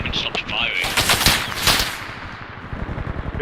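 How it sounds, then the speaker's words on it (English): Sustained machine gun fire in the war video game Bellum, a dense stream of rapid, loud shots with overlapping bursts that rattle on continuously. "They haven't stopped firing."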